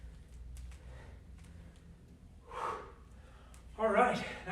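Heavy, audible breathing after a round of circuit exercise, with a couple of loud gasping exhales standing out over a quiet room; a voice speaks around the breaths.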